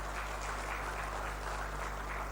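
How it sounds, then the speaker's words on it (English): Audience applause at a connected Africa digital summit greets the Zimbabwe delegation, a short burst of dense, continuous clapping with an even level and no talk over it. "Zimbabwe, a heavy clap."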